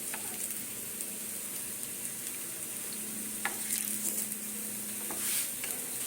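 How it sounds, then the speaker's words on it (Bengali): Pumpkin flower fritters frying in hot oil, a steady close sizzle and bubbling with a few brief clinks, heard without talk. "ভেজে নিতে হবে"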